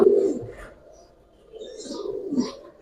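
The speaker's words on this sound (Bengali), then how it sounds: "হ্যাঁ ভাই অরিজিনাল হ্যারিকেন কবুতর এই যে দেখেন" Hurricane pigeons give low, soft coos nearby in two short bursts separated by a quiet pause.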